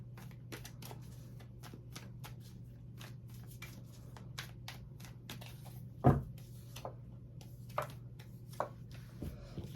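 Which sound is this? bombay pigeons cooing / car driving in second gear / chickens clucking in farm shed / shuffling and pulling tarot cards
shuffling and pulling tarot cards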